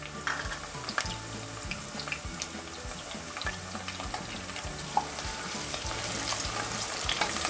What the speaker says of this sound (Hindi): प्याज इतना हो गया, अब मैं इसमें लहसुन डालूंगी जो काट के रखा हुआ था।